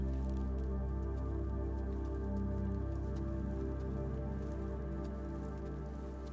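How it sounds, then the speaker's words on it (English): Light rain falls through a forest, with soft drops tapping on leaves in a steady, gentle patter over a low continuous drone. "you feel the first drops of rain on your skin, also hearing them tapping the leaves of nature"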